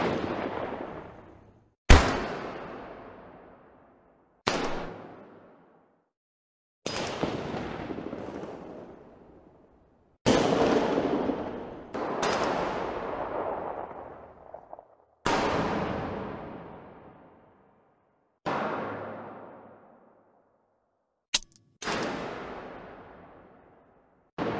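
Leaked Halo Infinite weapon sounds play alone as a series of eight separate loud blasts, each a sharp booming shot trailing into a long decaying echo, spaced a few seconds apart.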